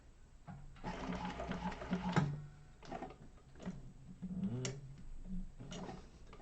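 A sewing machine with a walking foot stitches the bound connectors of a fabric bowler hat, running in several short bursts with brief pauses between them, fairly close and moderately loud.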